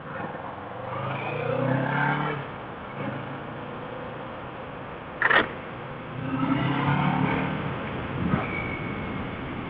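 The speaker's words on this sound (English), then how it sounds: "you feel and you hear that it's a bigger motor, bigger engine than the 400" A 2019 Kawasaki Ninja 650 in 35 kW A2 trim accelerates on a road ride. Its engine note climbs in two rising revving pulls separated by a quieter stretch and a brief sharp click, all close up and without talk.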